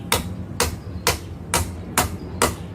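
Hammer blows driving stakes to build a small bridge outdoors: six sharp, evenly spaced strikes about half a second apart, moderately loud over a low background rumble.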